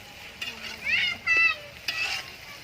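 Onion frying in a pan for a village-style chicken curry cooked outdoors, a soft continuous sizzle with intermittent stirring scrapes, faint background voices.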